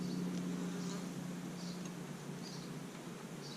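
Honey bees from a newly installed colony hum in a steady, dense drone that stays close and even throughout, with no talking over it.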